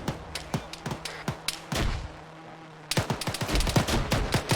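ArmA 3 combat: sharp rifle and machine-gun shots crack in uneven bursts, broken midway by a heavy, low frag grenade blast, then rapid fire resumes, loud and close.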